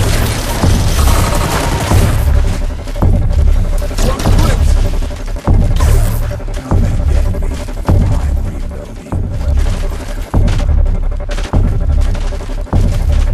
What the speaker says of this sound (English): Covering fire while I reload.